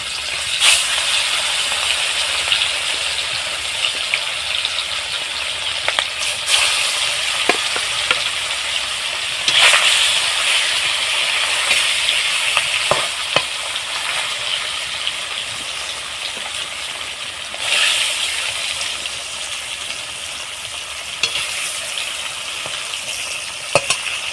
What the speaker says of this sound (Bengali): তেলটা আমার হয়ে গিয়েছে এইভাবে আমি ভালোভাবে মাছটাকে ভেজে নেব